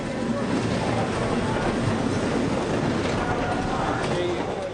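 A Talgo high-speed train on trial near Bareilly and Moradabad in India rolls along the rails with a loud, steady roar and clatter throughout.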